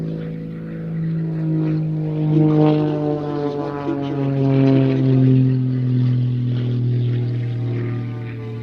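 A propeller aerobatic aircraft performing at an air show at RAF Mildenhall, its engine droning steadily with a rising and falling pitch as it climbs, turns inverted and snap-rolls, heard continuously and fairly loud.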